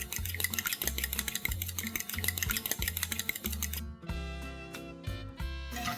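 Eggs with salt and black pepper are whisked in a bowl, making quick, regular clinking strokes close by that shift to a slightly different rhythm partway through, with no voices.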